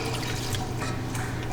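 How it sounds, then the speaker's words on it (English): Water is poured into a saucepan of melting butter, giving a soft continuous trickling splash with no talk over it. "then we will just pour the water in"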